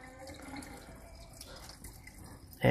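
Water from cooked Lotus Foods rice ramen noodles is poured off into a sink in a steady, close splashing stream, ending with a sharp louder splash.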